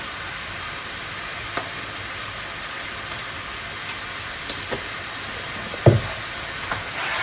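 Oil heats in a pan with a steady, faint sizzling hiss throughout, broken by a few small pops and one louder clatter near the end.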